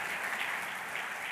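Sustained applause from a church congregation fills a worship service, many hands clapping together in an even, unbroken roar without speech over it.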